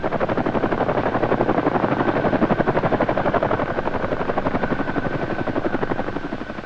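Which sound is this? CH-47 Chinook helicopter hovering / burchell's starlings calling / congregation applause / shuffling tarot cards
CH-47 Chinook helicopter hovering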